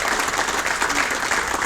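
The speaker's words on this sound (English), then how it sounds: "if we can give them a round of applause" Applause from the audience at the 2025 NH Golf Hall of Fame induction ceremony, a short burst of steady, dense clapping filling the room.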